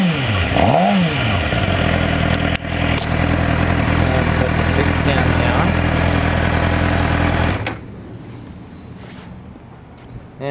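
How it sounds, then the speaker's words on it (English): A 2006 Suzuki GSX-R 600 sport bike engine rises in a sharp rev then holds a loud, steady high-rpm roar up close before cutting back to a quieter idle. "I'll rev the engine a little bit for you."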